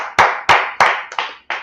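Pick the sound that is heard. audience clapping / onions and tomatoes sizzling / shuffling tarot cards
audience clapping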